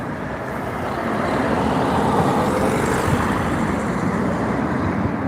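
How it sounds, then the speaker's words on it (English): Loud, steady engine roar of two-stroke motorbikes passing on a street, a continuous buzzing rumble that swells and holds, with no voices. "The two-stroke bikes, they are very, very noisy."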